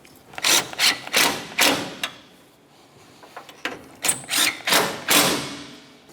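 Radiator mounting bracket bolts are snugged up on a 2009-2010 Pontiac Vibe, a close run of clicking ratchet strokes in two bursts of about four pulls each, separated by softer shuffling and light thuds.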